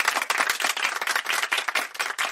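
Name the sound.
audience applause for Mastura on stage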